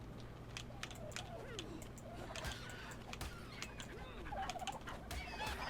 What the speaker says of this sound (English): Quit your clucking at me.